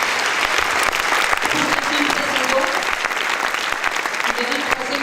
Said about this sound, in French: Je pense qu'on peut l'applaudir parce qu'elle a fait vraiment un travail incroyable.